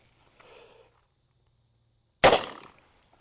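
A .44 lever-action rifle with a 20-inch barrel fires a single sharp, loud shot with a brief ringing decay, following a faint soft rustle and near silence.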